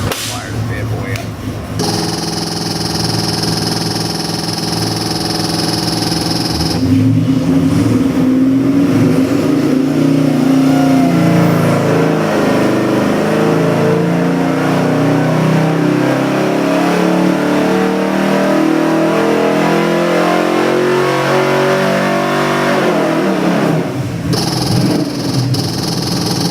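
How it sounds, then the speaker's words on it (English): A fuel-injected 408W 450HP crate engine on a run stand cranks and fires, then settles into a loud, steady idle with rising and falling revs for about twenty seconds before shutting off, with people talking nearby. "There we go, now we're firing the bad boy up."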